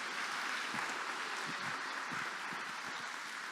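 A church congregation at an evening service applauds in a steady, dense wash of clapping that sounds somewhat distant and soft throughout.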